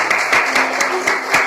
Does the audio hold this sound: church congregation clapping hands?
yes